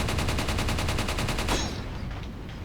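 Rapid automatic gunfire from the video game Resident Evil 4, steady and loud for about a second and a half, then cutting off into a noisy game background.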